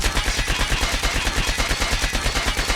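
Rapid automatic fire from an ASM10 rifle in a video game, a steady rattling stream of evenly spaced shots that stays close and loud for the whole stretch, with no voices.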